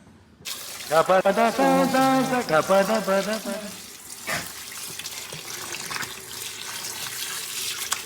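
Drumstick (moringa) leaves rinsed by hand under a running kitchen tap for a village-style chutney; a voice speaks over the opening seconds, then a steady close rush of water continues alone.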